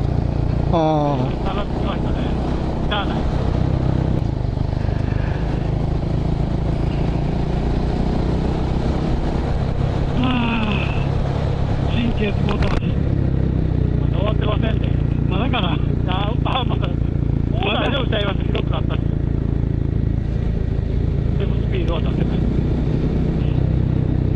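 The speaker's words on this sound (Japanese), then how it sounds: "後ろ何台バイクおんねん" Honda Monkey motorcycle engines drone steadily throughout on a group road ride, with a few bikes revving and shifting pitch nearby while people chat over the constant road noise.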